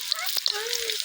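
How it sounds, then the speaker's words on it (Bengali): Bora fritters frying in hot oil, a steady close sizzle with a few sharper pops and crackles running through it. "সুন্দর করে লাল লাল করে ভাজা লাগবে"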